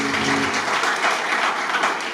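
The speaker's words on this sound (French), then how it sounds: "Acclamons pour l'ISP." A crowd applauds for the ISP at a student welcome day in Uvira, dense steady clapping filling the whole stretch with no voices over it.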